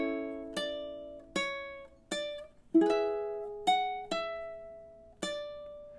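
Ukulele plays measures 13 and 14 of a song in a Halloween lesson: about eight quiet plucked notes and chords in a steady rhythm, each ringing briefly before the next.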